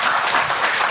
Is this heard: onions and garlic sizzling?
no